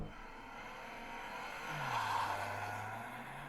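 A manual-gearbox 2024 Toyota GR Yaris pulls away hard from a standstill, its engine note rising steadily as it accelerates, heard clearly from nearby with no talking.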